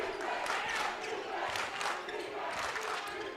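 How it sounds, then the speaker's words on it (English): An arena crowd roars and cheers during a men's college basketball game in the Kettle, waves of loud, sustained yelling swelling and easing in pulses, with no clear words. "this is one of the loudest crowds I've heard in the Kettle"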